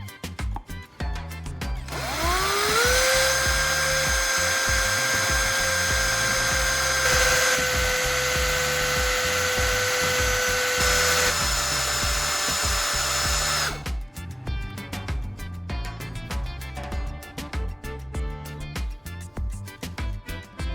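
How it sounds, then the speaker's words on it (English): A power mixer stirs a cement mixture into synthetic enamel paint, a steady high whine that rises as the tool spins up, holds for about eleven seconds, then stops, leaving quieter handling sounds. "I pour the prepared cement mixture into synthetic enamel paint and continue stirring until everything is fully combined"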